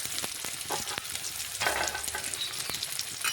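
Chopped onion fries in white oil with cumin, giving a steady, close sizzle broken by the scrape and clack of a stirring spoon against the pan, with no talking.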